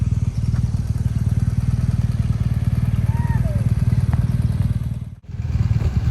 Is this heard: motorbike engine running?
yes